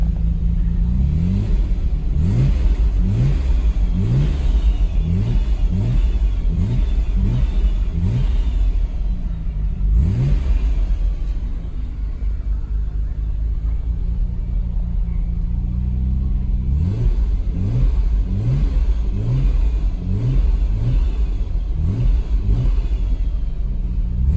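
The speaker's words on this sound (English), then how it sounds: "You give it a few revs?" A car engine revs up repeatedly in quick bursts, settles into a steady idle, then revs again in another run of sharp, loud blips.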